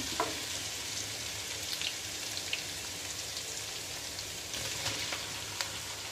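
Garlic and ginger fry over medium heat in a pan for a pork curry, giving a steady, dense crackling sizzle throughout with a few brief stirring clicks and no voices.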